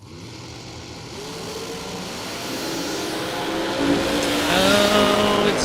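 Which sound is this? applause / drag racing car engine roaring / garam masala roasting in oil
drag racing car engine roaring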